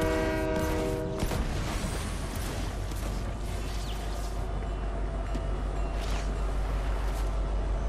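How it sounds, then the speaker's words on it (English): A train in the Fortnite Battle Royale video game sounds a sustained horn blast that cuts off, then a steady loud rolling rumble of the moving train carries on alone. "Someone's definitely on the train"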